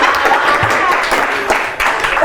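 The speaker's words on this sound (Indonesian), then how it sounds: "Tepuk tangan dong." Studio audience applause breaking out for a guest on an Indonesian talk show, a dense, loud wash of clapping that holds steady for a couple of seconds.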